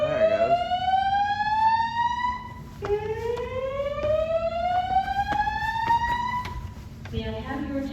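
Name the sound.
building fire alarm sounding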